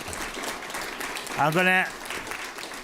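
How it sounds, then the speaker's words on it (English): Audience at a council meeting applauding a presentation from Blacks Harbor, soft scattered clapping under a voice that speaks briefly in the middle. "Big round of applause for you guys"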